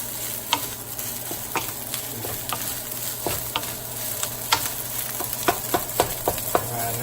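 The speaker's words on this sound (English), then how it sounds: "The key again is to keep this rice moving." Rice fried in hot oil, steady sizzling throughout, with frequent clicking scrapes and taps as it is stirred and kept moving in the pan, no talk.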